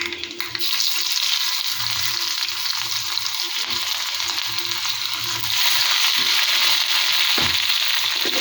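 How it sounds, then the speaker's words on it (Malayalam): Mustard seeds splutter and crackle in hot oil with a dense, continuous fizzing sizzle, close and fairly loud, growing slightly stronger toward the end. "കടുക് പൊട്ടുന്നുണ്ട്"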